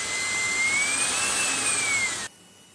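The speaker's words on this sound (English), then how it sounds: "So there are three suction modes in the vacuum cleaner: low, medium and high." An Agaro Supreme cordless vacuum cleaner runs with a steady high-pitched whine and airy suction roar, close and loud, then cuts off abruptly near the end.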